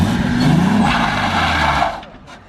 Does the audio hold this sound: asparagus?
no